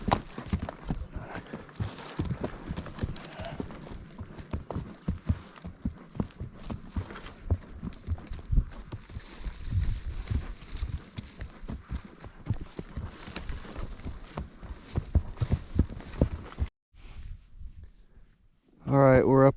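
A horse's hooves clip-clop at a walk on a trail during a fall gather north of Reno, Nevada, a steady uneven rhythm of close hoofbeats with someone talking over much of it and a brief quiet gap near the end.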